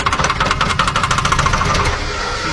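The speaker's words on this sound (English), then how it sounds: "knocking never hurt a diesel, right?" An old diesel car engine running rough with a rapid, rhythmic metallic knock, loud and close, the clatter repeating steadily over the idle.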